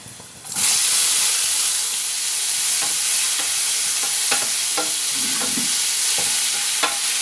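Chopped onions hit hot oil in a pan with a sudden loud sizzle that keeps hissing steadily, broken by occasional stirring scrapes and clicks.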